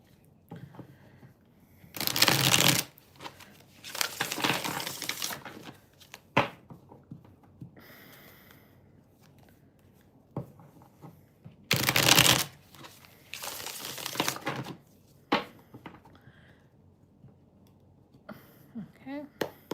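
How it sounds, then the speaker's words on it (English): Tarot cards being shuffled by hand in two bursts of crisp riffling with quieter handling and shuffling between them, close up; a person talks softly in between. "Let me just shuffle."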